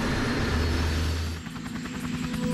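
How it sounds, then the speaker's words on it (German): Sikorsky helicopter flying over Greenland on the way to Qaqortoq, a steady loud rotor and engine drone with a low throbbing hum that shifts in tone midway, heard close from inside or nearby with no talk. "das ist nicht einfach ein Hubschrauber, das ist ein Sikorsky"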